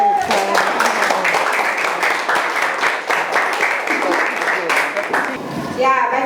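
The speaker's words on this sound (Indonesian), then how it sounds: "Tepuk tangan dulu." Students in a classroom applaud after a group presentation, a burst of close, dense clapping that runs for several seconds with children's voices mixed in.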